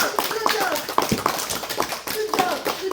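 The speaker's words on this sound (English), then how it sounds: "everyone, round of applause for our akhi right here, doing the right thing" A youth gathering applauds during a talk, a brisk patter of hands clapping close by with loud voices talking and cheering over it.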